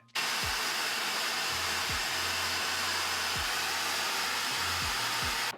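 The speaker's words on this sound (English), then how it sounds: "Now I'm gonna start blow drying the back of my head" A hair dryer blows steadily and loudly on a man's hair throughout, a constant rushing whoosh, with a few faint low thumps beneath and no voices.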